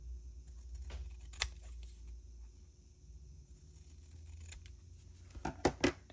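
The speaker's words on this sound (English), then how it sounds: "I'm just going to cut this all the way, trimming everything off." Bigger scissors trimming material for a fabric-tape-bound mini book, heard as a few scattered crisp snips, then a quick cluster of sharper cuts near the end, close and fairly quiet over a low rumbling hum.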